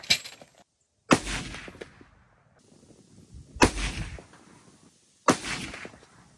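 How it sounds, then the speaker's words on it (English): Three loud, sharp shotgun blasts fired at a target about 100 yards away outdoors in cold weather, spaced about two seconds apart, each followed by a short echoing decay. "We chose today to sight in our guns for shotgun season this weekend."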